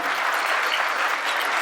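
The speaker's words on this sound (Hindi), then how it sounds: "एक बार आप सब अपने लिए जोरदार ताली बजा लो।" Audience applause at a spiritual gathering, a dense and steady clapping from a large crowd that sounds close and loud throughout, with no voices over it.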